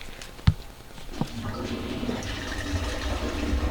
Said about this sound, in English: We're going to flush the toilet briefly and prove that.